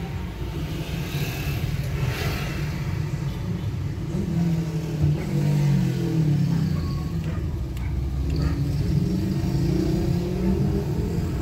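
A car drives through numbered cross streets in Cabarete, Dominican Republic, its engine rumbling at moderate level and rising as it accelerates, heard from inside with steady road noise.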